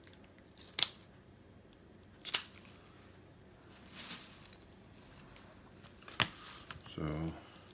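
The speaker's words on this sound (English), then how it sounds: "Just when you go to cut this breast meat up," Smoked chicken breast meat is sliced with a knife on a cutting board after cooking in a Pit Barrel Cooker, a few sharp crisp cuts spaced apart, close but quiet, ending in a brief soft rustle.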